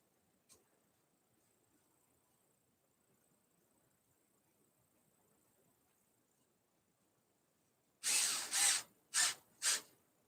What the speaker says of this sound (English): Let me put a screw in real quick.